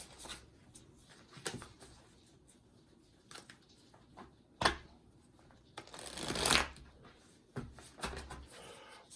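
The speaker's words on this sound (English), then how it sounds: "we're going to give it another quick shuffle" Tarot cards shuffled by hand during a love reading, with soft riffling bursts and a longer, louder shuffle near the end; no talking.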